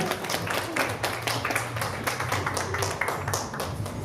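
Applause from the audience at the Diamond Bride 2016 pageant in Sakha-Yakutia: steady, dense clapping that goes on unbroken and fills the room at close range.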